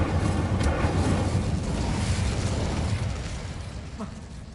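A fire spell cast in the Hogwarts Legacy video game bursts out as a loud, roaring whoosh of flame that rushes on for a few seconds and then slowly fades.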